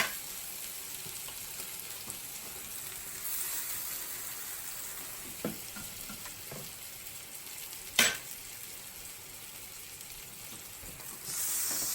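Meatballs fry in oil in a pan with a soft, steady sizzle heard fairly quietly and close, broken by a few light pops and a brief louder crackle, with no talking.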